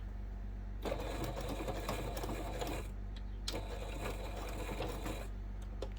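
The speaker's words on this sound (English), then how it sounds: "don't forget to do a back stitch when you start as well" Home sewing machine stitching the seam of a crossbody bag, with two bursts of rapid mechanical whirring and needle clatter separated by a short pause and ending in a few faint clicks, heard up close with no talking.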